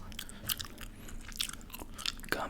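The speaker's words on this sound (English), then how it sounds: "gum chewing" Gum chewed close to the mic, with soft wet smacks and clicks coming in irregular bursts and no talking.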